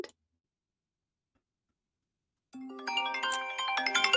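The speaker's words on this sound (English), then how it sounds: "so you can hear my phone is ringing" A cell phone starts ringing after a silent pause, as an AI voice agent places a call to it, with a bright melodic ringtone playing on steadily and rising slightly.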